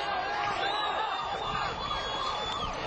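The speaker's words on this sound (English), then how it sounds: "The ambulance pulls up in seconds." An ambulance siren wails continuously at a shooting scene, loud and close with a rising and falling tone across the whole stretch.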